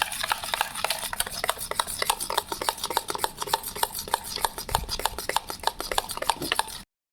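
Yogurt, baking soda and sugar are beaten in a bowl, giving fast, even clicking taps in a continuous close rhythm that stop abruptly at the end.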